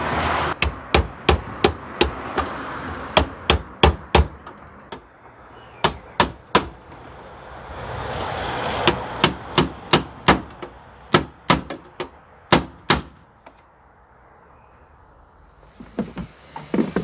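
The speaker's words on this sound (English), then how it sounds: "I think I might need a hammer." Sharp hammer blows strike in uneven bursts, a few quick hits at a time with short pauses between, loud and close, hammering a tight part on a BMW E38 728i.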